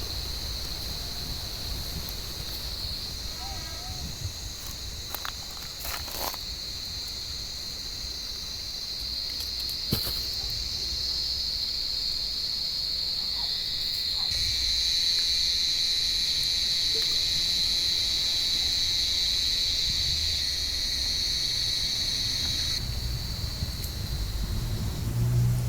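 Cicadas sing steadily from an olive tree, a sustained buzzing drone that swells louder midway and then drops back, with faint outdoor background and occasional light knocks.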